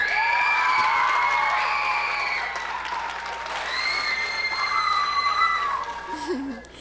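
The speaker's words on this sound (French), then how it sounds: "Applaudissez Mia Cyr." Loud applause from a crowd at a secondary-school talent show final, mixed with high-pitched cheers and whoops, sustained for several seconds before easing off.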